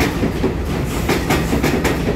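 Silver-green EMU900 ten-car electric commuter train departing a station on the Yilan line, with steady rolling rumble and repeated clickety-clack wheel beats over rail joints, close and continuous.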